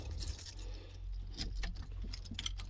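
Faint jingling of keys being handled for a 1983 square-body Chevrolet S10 pickup, small metallic clinks scattered over a low background rumble.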